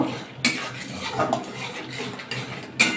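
A spoon stirs potato and pointed gourd curry with raisins in a metal pan, giving a few sharp clinks and scrapes against the pan over quiet kitchen background.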